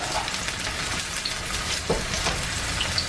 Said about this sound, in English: I keep stirring the onions so they don't burn on the bottom.